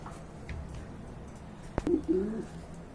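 A male pigeon coos a few times at close range, low soft calls after a sharp knock, with steady background hum.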